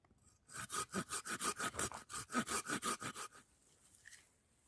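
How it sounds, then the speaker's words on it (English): A hand saw cutting through wood outdoors, about fifteen quick, rhythmic rasping back-and-forth strokes, close and fairly quiet, then stopping into near silence. "what I'm going to do is saw it to about a third of the way down"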